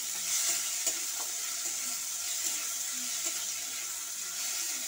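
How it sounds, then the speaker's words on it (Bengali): Chopped tomato being stirred into fried garlic paste in a pan, a soft continuous sizzle with light scraping of the spoon, no voices. "টমেটো কুচিটাকে আমি একসঙ্গে এবার নাড়বো রসুনের সাথে।"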